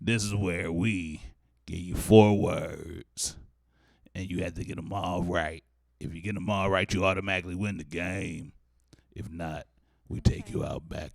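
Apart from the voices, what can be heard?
No everyday noises stand out.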